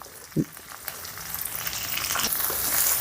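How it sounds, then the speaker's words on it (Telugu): Finely chopped green chillies, added to a pan with curry leaves for cumin rice, hiss and crackle in hot oil, starting with a brief thump and building to a steady, close frying sizzle without talk. "ఇప్పుడు ఇందులోనే సన్నగా తరిగిన కనిపించి కనిపించినటువంటి ఈ పచ్చిమిర్చి ముక్కల్ని కూడా వేసుకుందాం"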